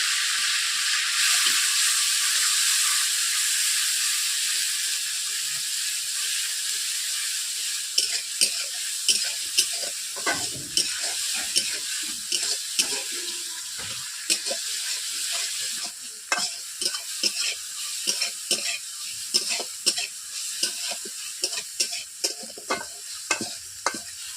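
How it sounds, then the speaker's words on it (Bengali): Grated ginger, garlic and tomato dropped into hot oil with a pinch of salt: a loud bright hiss at first that settles into a lower sizzle, then quick repeated stirring scrapes in the pan, close, without talk. "আদা, রসুন, টমেটো একসঙ্গে আমি গ্রেট করে রেখেছিলাম, ওগুলোকে দিয়ে দিচ্ছি তেলের মধ্যে।"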